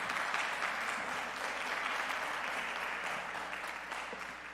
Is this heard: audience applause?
yes